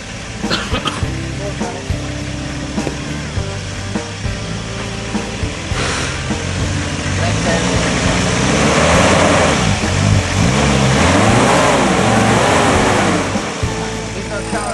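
A 4WD with its right-hand front corner jammed hard against a bank in a hole, engine revving steadily and loudly as it fails to get traction, with voices talking over it throughout.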